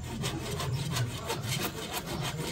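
A hand saw cuts steadily through a large tree trunk outdoors, its rasping strokes repeating at an even rhythm, close and fairly loud, with no talking over it.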